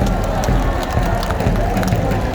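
A crowd at a large outdoor rally in Gwanghwamun claps and cheers in a dense, continuous wash of sound. A murmur of voices and some scattered shouts mix into the applause throughout.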